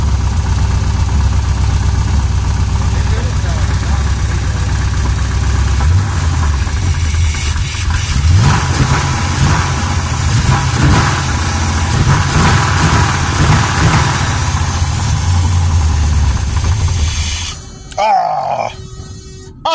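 A steady engine idles close by with a constant low rumble and faint rattling vibration, then cuts out near the end.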